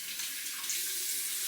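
Water runs steadily into a Barrister and Mann Bay Rum shaving soap lather with a soft, continuous close hiss for a moment, and no one speaks.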